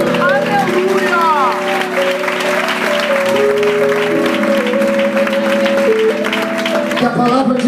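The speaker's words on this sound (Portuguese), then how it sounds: "Dá uma salva de palmas para Jesus." Church congregation at an Assembleia de Deus service claps together in a steady wash of applause, heard under sustained organ or keyboard chords and shouts of praise, loud and continuous.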